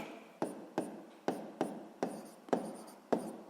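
A physics formula for gravitational force is written by hand, producing about seven crisp, evenly spaced strokes and taps, each followed by a short scratch. The strokes are close, fairly loud and heard alone.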